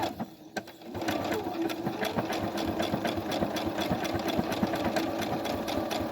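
A Brother SB1000T computerized sewing machine stitches decorative patterns in a steady, fast mechanical rhythm. It starts quietly, then runs continuously up close with no talking.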